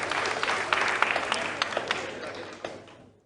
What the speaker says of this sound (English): A round of applause to Bambiland Montessori School.